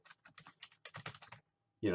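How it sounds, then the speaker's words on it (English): Rapid, irregular clatter of keys on a computer keyboard, close and fairly quiet, in short bursts with a brief pause before a louder burst at the end. "so that when I start typing"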